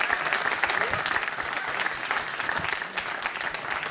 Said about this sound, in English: one more big round of applause for all of our elected officials.